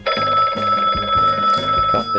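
A telephone bell rings loudly and steadily in an indoor scene from a French comedy series, its repeated trilling bursts continuous across the whole moment with no talk over it.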